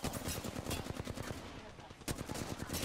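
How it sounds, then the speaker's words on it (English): Rapid bursts of gunfire from the video game Apex Legends crackle at a distance, a brief lull in the middle before the shooting resumes. "Yeah, I definitely hear gunshots."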